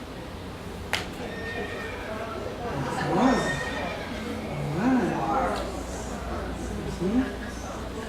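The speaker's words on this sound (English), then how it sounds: "It's a horse." A played recording of a horse neighing, with several whinnies repeating at a moderate level over background classroom chatter and a brief voice.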